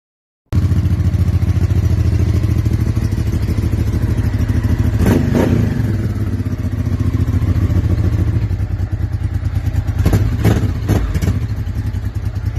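A 1999 Honda Deauville 650 motorcycle engine idles steadily up close, with a couple of sharp revs around the middle and near the end, plus some mechanical clatter.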